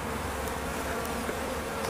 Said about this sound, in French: On a une belle population d'abeilles.